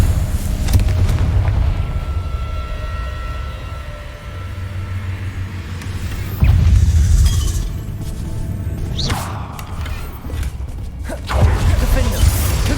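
Confringo spell blasts in Hogwarts Legacy land as heavy booms and rumbling impacts, loud and near, several bursts spaced across the fight, with voices calling out spells amid the clatter.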